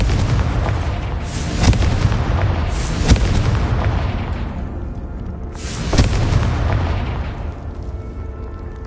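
Repeated deep booming blasts of a Confringo fire spell in the Hogwarts Legacy video game, three loud bursts roughly a second and a half apart, over a constant rumbling game background with no talking.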